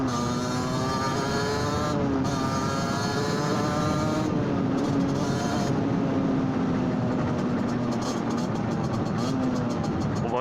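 A friend's motorcycle with a dry rear brake, ridden by someone else, drones steadily with a sustained engine note that rises and falls slightly with throttle, loud and continuous throughout.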